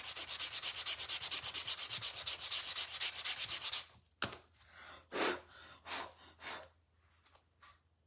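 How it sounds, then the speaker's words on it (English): Steady, loud sanding of wax and paint off a rattan pumpkin fills the first four seconds, a continuous rough rasp. It stops abruptly and is followed by a few separate scraping and rubbing sounds with pauses between them. "I can almost completely sand that off of there"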